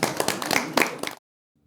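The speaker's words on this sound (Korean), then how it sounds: "자, 박수 한번 쳐야지 그래도." Members of South Korea's National Assembly applaud in the plenary chamber after a pension reform bill passes. A dense patter of many overlapping hand claps rings out briefly and fairly loudly, then cuts off abruptly into silence.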